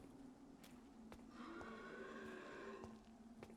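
A single drawn-out cow moo from the video game Vampyr rises over faint background noise, with a few sharp clicks before and after.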